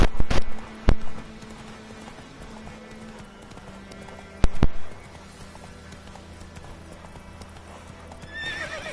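Roach the horse in The Witcher game, with a few bursts of hoof clops and short whinnies separated by quiet stretches, fairly close and with no talking.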